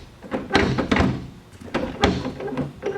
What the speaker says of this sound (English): So we close the trunk.